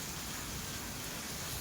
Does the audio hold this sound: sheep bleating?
no